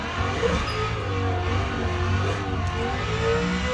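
Drift car engine in the Assetto Corsa video game, a steady droning rev held at a fairly constant pitch with a slight rise and fall, loud and continuous for the whole stretch.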